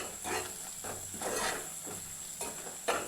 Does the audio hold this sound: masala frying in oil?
yes